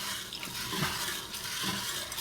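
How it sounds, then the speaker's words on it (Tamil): Water is poured over green gram as it is rinsed in a pot, a continuous faint splashing trickle with a few soft sloshes, close by and without talk. "நல்லா கழுவி ஊற்றிட்டு"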